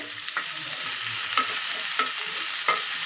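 A spatula stirs oregano and mixed herbs through a hot pan for a tawa pizza topping, giving several soft scraping strokes at irregular intervals over a faint, steady frying hiss, close by and with no speech.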